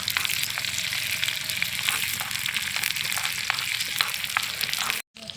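Onions and tomato fry in a pan as the base for chicken gravy, a loud, steady, close sizzle with faint stirring scrapes throughout, cutting out briefly near the end.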